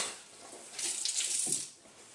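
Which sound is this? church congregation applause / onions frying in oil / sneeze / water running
water running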